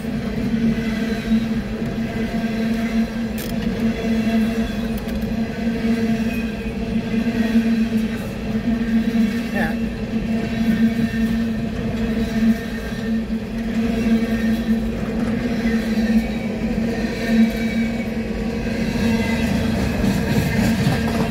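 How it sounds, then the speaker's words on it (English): A westbound Norfolk Southern hopper train rolls past with a steady low rumble and faint rhythmic clatter of wagons, continuous and fairly loud for the whole stretch. "There's a train coming in."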